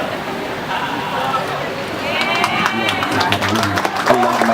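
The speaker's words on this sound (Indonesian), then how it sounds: "Ya, tepuk tangan yang meriah." An audience applauding at a mosque inauguration and religious gathering in Jakarta, a steady wash of many hands clapping with crowd murmur, building slightly and holding throughout.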